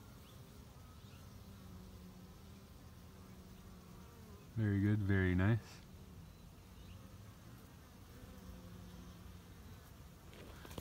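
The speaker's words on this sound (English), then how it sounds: "But still, lots and lots of bees at the entrance." Honeybees buzz at the entrance of a hive in mid-winter: a faint, steady hum runs throughout, interrupted by a brief spoken remark close to the microphone.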